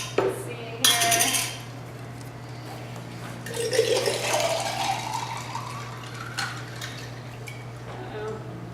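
Seltzer water pours into a jar, a fizzing, trickling wash that swells in the middle, with clinks of glass and kitchen clatter near the start and a voice briefly heard.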